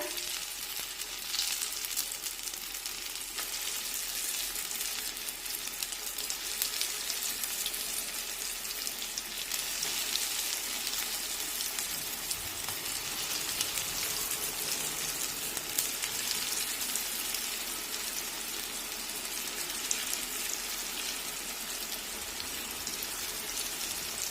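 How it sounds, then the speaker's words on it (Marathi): Methi vadi, fenugreek fritters, deep-frying in oil over medium heat, giving a steady, even sizzle and crackle that holds level throughout with no talking. "मध्यम आचेवर या सर्व वड्या तळून घेऊया"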